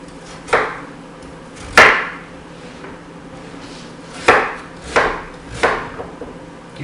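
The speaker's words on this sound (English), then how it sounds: "I'm going to cut it in about 1/4 to 1/2 inch slices." A knife slices through a hard raw rutabaga on a cutting board, five sharp, separate chops landing at uneven intervals, each a crisp crack with a short thud, close and clear with no talking.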